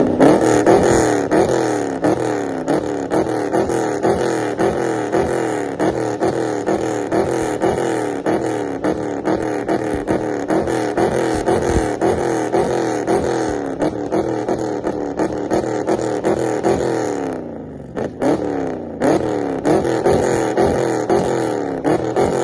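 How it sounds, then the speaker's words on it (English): A loud tuned 392 Scat Pack engine revs hard and repeatedly without a rev limiter, pitch sweeping up and down in rapid bursts close by, with a brief drop near the end before revving resumes. "let y'all hear it without the rev limiter"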